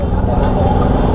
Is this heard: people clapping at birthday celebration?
no